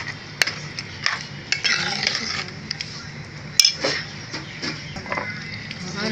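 Chicken masala being stirred in a pan after milk is added, with spoon scrapes and clinks against the metal, a faint sizzle, and a few sharper knocks.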